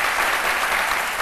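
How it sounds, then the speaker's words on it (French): Dense audience applause fills the room steadily and loudly, a continuous wash of many hands clapping for Ulrich Adongo at a French-language event, with no voices standing out. "Merci beaucoup Ulrich, qu'on applaudit bien"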